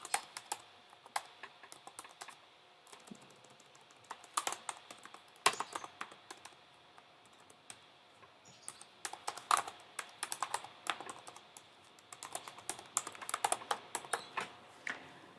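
Fingers typing text on a computer keyboard, a steady run of quick, light key clicks with short pauses and bursts of faster keystrokes, close and alone.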